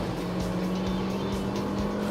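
Car on a race track, one of a Sentra NISMO, Elantra Turbo or Focus ST duel, braking then overtaking; a steady engine drone runs throughout, loud and close, with a faint tire squeal and no talk.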